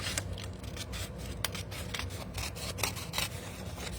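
Small scissors snip and rasp steadily at a craft desk during mixed media work, a continuous close, dry cutting texture with short repeated strokes and no talking.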